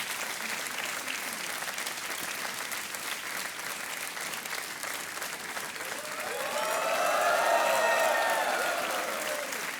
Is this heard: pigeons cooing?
no